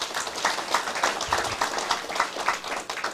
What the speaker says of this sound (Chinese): 拍手好不好？